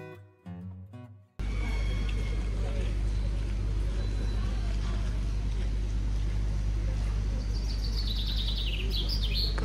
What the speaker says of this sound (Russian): Послушайте, как птицы поют вообще.